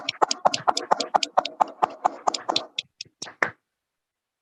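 Participants in a live Zoom training meeting clap in a sparse, steady rhythm, roughly a dozen and a half sharp claps that thin out and stop, then a lone final clap after a pause.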